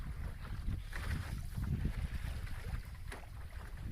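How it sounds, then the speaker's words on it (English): Wind gusts and lapping waves surround a sailboat on Minas Basin, with blustery low rumble against the microphone and irregular splashing of water close by, all fairly quiet. "The wind has picked up. And the waves are coming."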